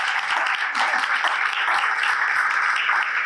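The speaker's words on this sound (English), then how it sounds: "I think that deserves a round of applause" Audience applause at a two-year anniversary community talk session, a steady dense wash of clapping lasting a few seconds at moderate level, with no voices over it.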